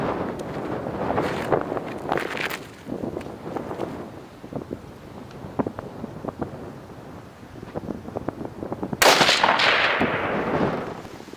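A rifle zeroed at 100 meters fires one sharp, loud shot at a 50 meter target outdoors near the end, after a stretch of gusty wind noise and faint movement.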